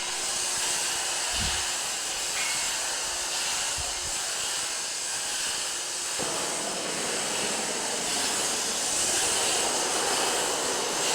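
A CNC AutoBlaster sandblasts a stone panel with a loud, continuous, broad hiss that holds steady throughout, together with a few faint low thumps and no voices.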